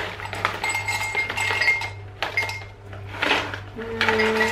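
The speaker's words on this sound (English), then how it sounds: "I'm just gonna pour some into a mug." Cashew nuts clatter and clink against a ceramic mug in quick bursts, with a steady low hum in the background.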